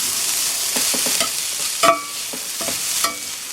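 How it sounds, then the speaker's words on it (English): Hash brown breakfast ingredients sizzle steadily in a hot pan as a utensil scrapes and stirs them, with irregular scraping strokes and a sharper clack near the middle, close up with no talking. "we're going to take that and we're going to throw it all in the hot pan"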